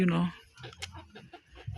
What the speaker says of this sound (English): These ones, they are kienyeji chickens.